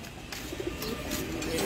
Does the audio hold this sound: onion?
no